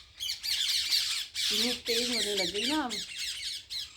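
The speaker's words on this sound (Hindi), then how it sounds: "चिड़िया कैसे बोल रही है ना, चीची चीची।" A bird outside gives sharp, repeated squawks and chirps close by, with someone speaking over part of the calls.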